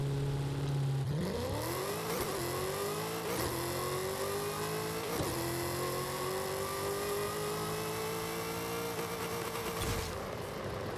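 A Ford Falcon GT F with a Coyote V8 launches on a quarter-mile drag run in Forza Horizon 5, its engine note climbing through several gear shifts, each marked by a brief dip, then a loud sustained high-revving pull.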